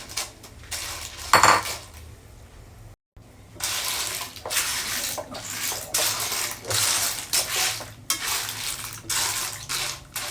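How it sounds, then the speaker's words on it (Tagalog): Clams tossed into a hot pan of sautéed ingredients for ginisang tulya, shells clattering and rattling against the metal in repeated loud bursts, with brief pauses between handfuls. "Ilagay na natin yung tulya."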